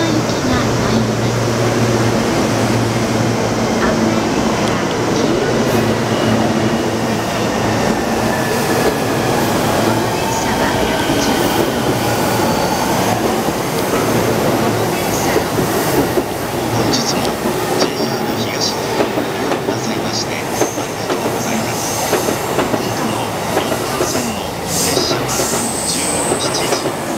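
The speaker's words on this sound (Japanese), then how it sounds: "3番線に普通久里浜行きが参ります。" A Shonan-Shinjuku Line E231 series 15-car electric commuter train rolls into Musashi-Kosugi Station steadily with a continuous rumble and rail clatter, loud and close, with faint wheel squeal and muffled voices under the noise.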